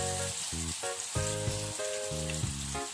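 Food frying in hot oil for a Malaysian dish, leaves opened for crispness, gives a steady loud crackling sizzle close up, continuous throughout with stirring and tonal music playing underneath.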